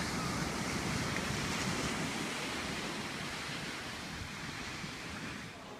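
Steady surf rolls onto a beach near a lighthouse and dunes as someone walks along the shore, a continuous broad wash of waves mixed with wind rumble that eases slightly toward the end.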